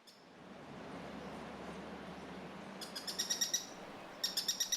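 A Streak-breasted Treehunter calls in Costa Rican cloud forest, giving two short bursts of rapid, high, evenly spaced notes over steady background hiss, the first late in the stretch and the second near its end.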